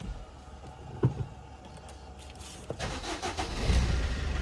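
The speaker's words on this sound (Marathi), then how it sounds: "स्विफ्ट तरी थोडा वेळ चालू करून ठेवूया" A Maruti Swift, left unused for about two weeks, cranks and fires up, a click and brief whir followed by the engine catching and settling into a steady rising idle.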